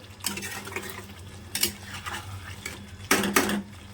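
Spice masala with potatoes and kasuri methi cooks in a pot for biryani, with repeated metal spoon scrapes and clanks against the pot over a low sizzle.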